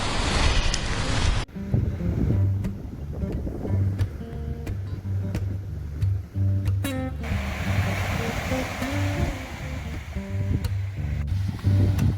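Strong wind on Zakynthos, Greece roars and buffets the microphone in a constant broadband rush, with a person speaking under it throughout.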